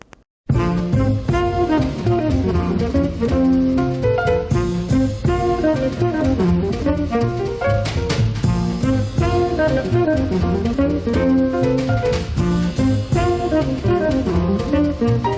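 A fast, busy jazz guitar melody races over a full band with steady accompaniment, loud and continuous after a brief quiet start.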